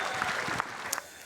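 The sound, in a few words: audience applause for Aaron Sheriff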